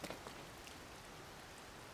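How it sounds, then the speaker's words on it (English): Soft, steady rainfall in the video game Zelda: Tears of the Kingdom, a faint even hiss with a couple of small taps at the start and no voices. "it's raining and I can't climb this cliff anymore"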